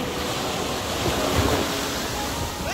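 Ocean surf pounds steadily on Balekambang beach in Malang, a continuous loud wash of breaking waves with wind buffeting the microphone.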